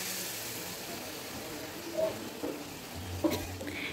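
Fish fried with ground cumin and chilli paste is stirred in a frying pan, a soft continuous sizzle with faint scraping and a couple of light utensil knocks, fairly quiet throughout.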